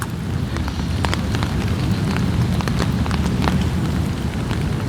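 Steady rain patters down continuously, a dense hiss with scattered drops tapping nearby surfaces.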